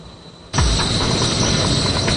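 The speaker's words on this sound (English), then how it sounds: "now the whole train is floating in midair 10 millimeters above the track" A maglev train floats 10 millimeters above its test track, and a loud broadband rushing roar starts abruptly after a moment of quiet and then holds steady, with a faint high whine on top.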